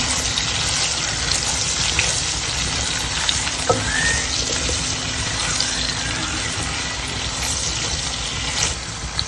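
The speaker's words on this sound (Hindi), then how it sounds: "अब इसके अंदर मैं कद्दू डालती हूँ। इनको फ्राई करते हैं।" Bottle gourd pieces fry with crackled cumin for a beef and bottle gourd curry, a loud, dense, continuous sizzle close by with no pauses.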